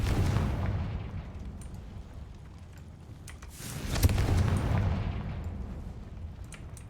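A Confringo fire spell goes off in Hogwarts Legacy as two muffled booming blasts with rumbling tails, the second one stronger, and no voices over them.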